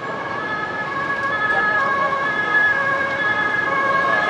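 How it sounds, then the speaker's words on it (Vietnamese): An ambulance siren wails on a busy street in Saigon's District 10 near a hospital, a steady, moderately loud siren tone over road traffic noise, with no talk. "gần đây là nghe xe cứu thương tối ngày luôn á."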